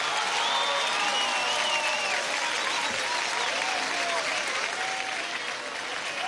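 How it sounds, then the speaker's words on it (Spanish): A big crowd at an outdoor political campaign closing rally in Caracas applauds steadily, dense clapping mixed with scattered cheers and whistles, loud and sustained before easing slightly at the end. "Un aplauso para esa ola bolivariana."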